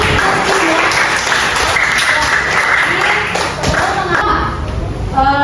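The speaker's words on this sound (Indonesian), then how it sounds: "Boleh tepuk tangan." Classroom applause from students, a dense steady patter of many hands clapping under some voices, fading slightly near the end.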